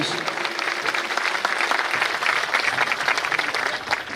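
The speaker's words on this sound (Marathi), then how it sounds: "सर्वांनी जोरदार टाळी वाजून या ठिकाणी आपण" Loud, continuous applause from a crowd at a felicitation ceremony, dense clapping sustained for several seconds, close and steady, fading slightly at the end.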